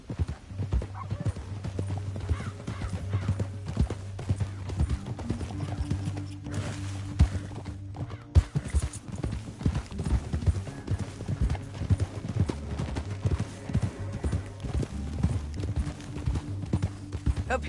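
Horse hoofbeats clip-clop steadily while riding in Red Dead Redemption 2, a continuous rhythmic trot under game music with a brief whinny, running throughout at moderate loudness.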